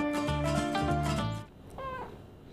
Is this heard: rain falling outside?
no